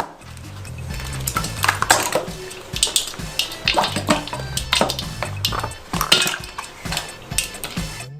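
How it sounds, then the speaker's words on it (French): Ice cubes clatter and clink into a bowl of very cold water while cooking broccoli, a busy run of sharp knocks and splashy rattles close by, with no talking. "dans laquelle nous ajoutons également des glaçons."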